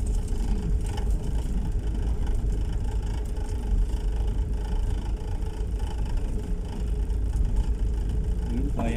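A motorized tricycle engine runs steadily up close with a constant low rumble and whir, continuous throughout without pause.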